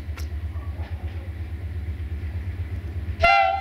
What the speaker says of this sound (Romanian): Dar ce filmați? Trenul?